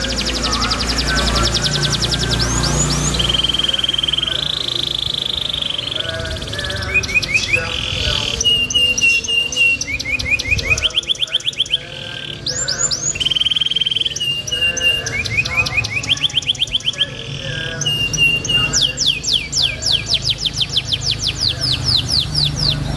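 Canary of the F1 YS series singing nonstop, bright rapid trills, chirps and rolling whistled phrases close by, continuous and loud with a low background hum beneath.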